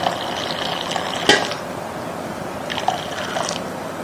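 About 400 grams of the water the apples were boiled in is poured out for apple murabba syrup, giving two short liquid splashing pours with a brief sharp clink between them.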